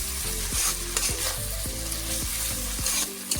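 Spice masala for a duck curry is fried and stirred in a pan, with a loud, steady sizzle under repeated rhythmic scrapes and clinks of the spoon against the metal, and nobody speaking.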